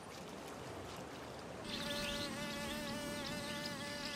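Mosquitoes in a highly malarial region hum in a thin, steady, wavering drone that starts abruptly partway through and then continues close and fairly faint over quiet background noise.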